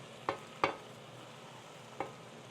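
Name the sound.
spinach added to the frying pan with chicken and tomatoes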